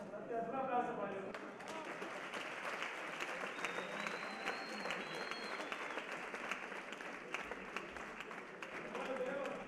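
An audience at a lecture about large numbers breaks into applause, a steady wash of many hands clapping, moderately loud and even across the whole stretch, with a few faint voices underneath.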